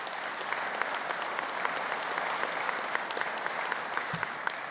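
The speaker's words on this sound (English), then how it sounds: "Please give them a round of applause again," An audience gives sustained applause at a veterans appreciation day ceremony, an even wash of clapping from a sizeable crowd heard at a distance, steady throughout without talk.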